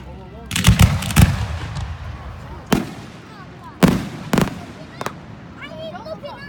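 Fireworks at Dover Middle School in 2018: a fast burst of cracks, then scattered loud bangs and a thin whistling fizz at the end, with a crowd audible in the background.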